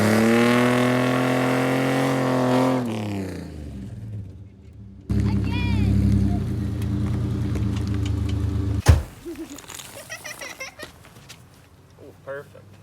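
Engine of a Chevrolet Chevette revs hard and loud during a tire burnout, then cuts off abruptly. A sharp bang follows, then scattered quieter noise and people talking.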